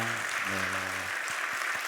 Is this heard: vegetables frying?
no